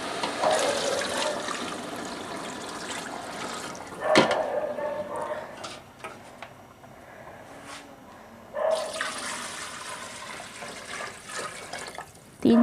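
Water pours steadily from a tap into a cooking pot for chicken pulao, a continuous rushing flow with a couple of louder surges, close and moderately loud.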